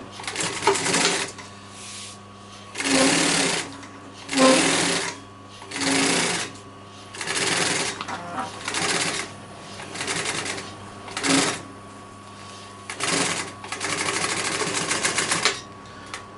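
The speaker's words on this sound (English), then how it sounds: "Okay, so that's our piping sewed on." Sewing machine stitching piping onto sofa upholstery, about ten loud bursts of rapid mechanical stitching separated by short pauses, close by.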